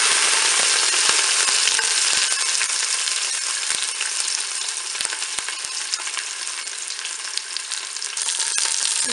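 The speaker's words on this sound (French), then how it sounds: "Mon huile est chaude, je vais pouvoir faire dorer mon rôti sur toutes ses faces." A turkey roast browns in hot oil inside a Cookeo multicooker, giving a steady, dense sizzle with scattered sharp crackles and pops that runs on without a break, close and fairly loud, with no voices.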